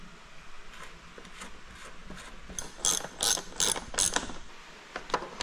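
Ratcheting clicks from a bottom bracket being installed on a custom downhill bike, a run of sharp mechanical clicks that grows louder and more spaced toward the end, close by with no talk.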